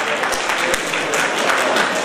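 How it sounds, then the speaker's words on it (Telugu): An audience at a felicitation ceremony for newly appointed government employees breaks into brief, loud, dense applause, close and continuous for a couple of seconds. "big clap"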